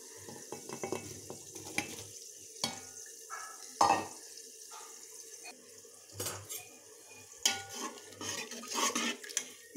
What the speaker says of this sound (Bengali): এবার আমি এই ভাতটা আমি এর মধ্যে দিয়ে দেব।